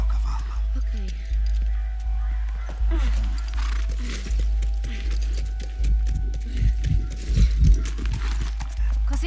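Horse hooves in the video game The Last of Us: a rhythmic clip-clop of steady, repeating footfalls at close range, mixed with voices and other game sounds.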